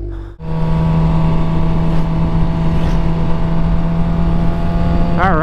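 A motorcycle engine idles steadily beside a road, left to warm up, with a low continuous hum and a brief throttle blip near the end. No one speaks.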